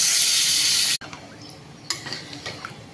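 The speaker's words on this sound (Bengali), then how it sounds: "এবার সেদ্ধ করে রাখা ডালটা এতে দিয়ে দেবো।" Boiled dal added to a pan of fried cashews and raisins: a loud hiss cuts off abruptly, followed by softer scraping, stirring and light utensil clinks.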